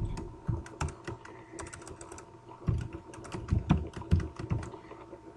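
Rapid, irregular keystrokes on a computer keyboard, close and clear, with uneven bursts of clicks and short pauses and no voices over them.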